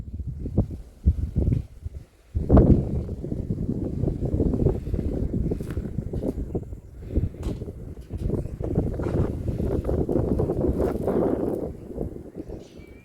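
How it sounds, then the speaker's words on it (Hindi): Strong wind gusts buffet a microphone on a boat moving through the Sundarbans mangrove jungle, producing loud, continuous low rumbling with a heavy burst near the start and steady blustering throughout. "यहाँ इतनी जोर से हवा चल रही है ना कि मैं आपको अभी दिखाती हूँ"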